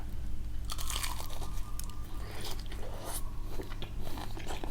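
Crisp, loud bites and crunching into fried chicken sold on skewers, eaten up close with ketchup and mayonnaise, repeated crackling crunches over a steady low background hum, with no talking.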